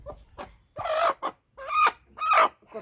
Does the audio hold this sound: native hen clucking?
yes